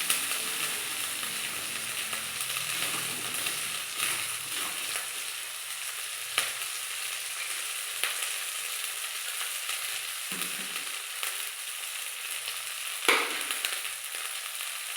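Spice paste fries in a pan for a vegetable dal, a continuous close sizzle broken by a few sharp scrapes and taps of a spoon stirring against the pan.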